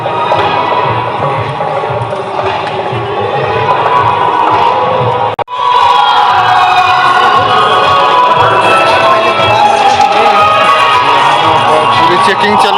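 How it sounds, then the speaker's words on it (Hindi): Large crowd gathered outdoors at a political rally in Ghazipur, a loud, dense, continuous murmur of many voices with a brief dropout midway, a nearby voice talking over it. "तो आप देख सकते हैं बहुत काफ़ी भीड़ है"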